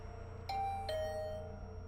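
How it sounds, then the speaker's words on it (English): Doorbell ringing in a video game, two clear chimes half a second apart, each ringing out over a low steady background hum. "Bang, bell rang again."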